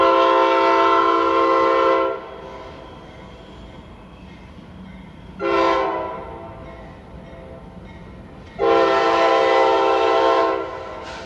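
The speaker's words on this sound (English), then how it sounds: "It's Q741, unit Tropicana juice train empties, headed home to Bradenton." A CSX unit freight train of empty Tropicana juice cars passing, sounding its horn in three loud, sustained blasts, the first and last long and the middle one brief, over a low rolling rumble of the train.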